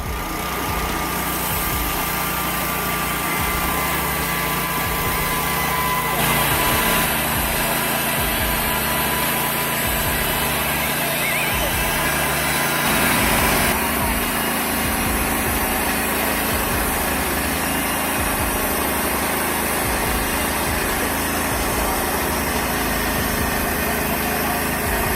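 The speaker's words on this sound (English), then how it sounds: "The TimberKing 1600 is a robust sawmill capable of cutting logs up to 36" The engine of a TimberKing 1600 sawmill runs at a steady, buzzing idle-like drone. It is loud and constant throughout with no voices.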